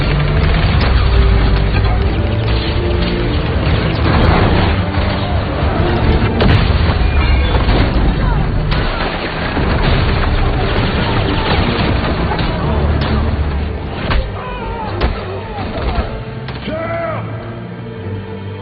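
Gunfire and heavy blasts from a gangster action movie fight, loud and continuous with booming impacts, crashes and dense musical score throughout, plus a few sharper shots near the end.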